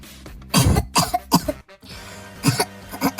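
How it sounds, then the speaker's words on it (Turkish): A person coughs several times in short bursts, close and loud, with brief pauses between the fits. "Öksürüyorum"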